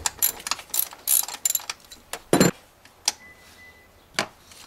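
Ratchet clicks undoing the power steering securing bracket on an 8th generation Honda Accord, loud close bursts of rapid clicking separated by pauses and lighter metallic taps.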